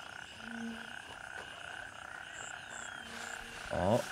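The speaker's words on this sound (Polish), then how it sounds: "O, żaby." Frogs croak in the video game Gray Zone Warfare, a few short calls standing out against a steady ambient game soundscape, with a louder burst near the end.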